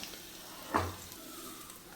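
Food frying in hot oil with a soft continuous sizzle, broken by one brief scrape and clink as pieces are turned and scooped out, fairly quiet and close.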